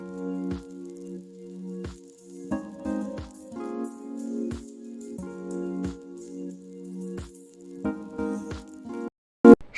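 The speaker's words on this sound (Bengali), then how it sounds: "এবার এখানে পটলগুলো 4-5টা একটু চিড়ে নিচ্ছি।" A knife slits pointed gourds (potol) for a dahi potol recipe, making sharp, short cuts spaced about a second apart over steady tonal background music, with no talking.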